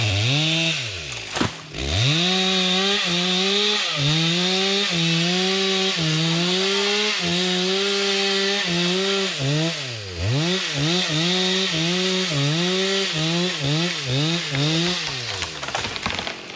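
Chainsaw felling 8-year-old acacia trees on a mountain, the engine revving up and down in repeated surges as it bites into the wood, loud and close throughout with a short idle dip near the start.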